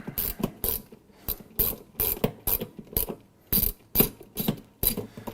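Socket wrench on several extensions loosening the agitator bolt deep inside a Frigidaire FLCE7522AW laundry center washer: a loud, close series of rapid ratcheting clicks in short repeated bursts, with no speech.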